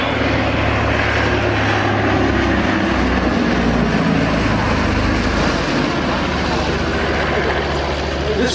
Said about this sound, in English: Powered by two Pratt Whitney Wasp engines, each rated 1200 horsepower